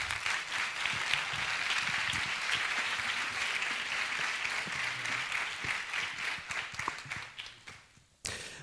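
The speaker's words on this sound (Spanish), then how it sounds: "Fuerte aplauso." Audience applauds after the introduction of a lecture on the plague in seventeenth-century Seville, held in Bormujos: sustained, even clapping that thins and fades near the end before a brief sharp noise.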